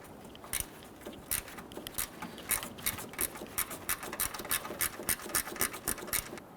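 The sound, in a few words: ratchet loosening bolts on Hummer H3 power steering line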